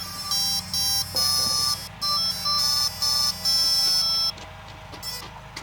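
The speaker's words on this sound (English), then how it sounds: "So ESC is still making its startup sound" A small drone's electronic speed controller plays its startup beeps without a working flight controller: a sequence of loud, close electronic tones in separate bursts, followed by a softer hum.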